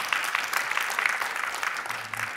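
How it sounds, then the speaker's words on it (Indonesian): A church congregation claps together in a broad, steady wash of applause through the short stretch, moderately loud and unaccompanied by any voice. "Berikan tepuk tangan buat Tuhan Yesus."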